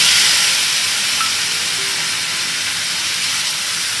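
Chopped tomato hitting hot oil, a loud, broad sizzling hiss that starts strong and then eases into a steady, slightly fading fry.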